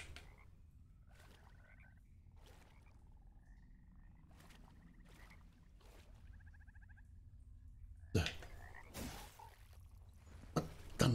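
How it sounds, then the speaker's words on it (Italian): In the video game Mortal Shell, a poison frog croaks in a slow, regular series of short, faint calls over a quiet ambient bed, followed by a few louder sharp bursts of sound near the end. "Rana velenosa."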